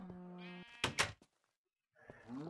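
Sheep in Minecraft bleat in a short run of game calls: a buzzy held bleat, then a couple of brief sharp noises, a pause of near silence and another wavering bleat at the end.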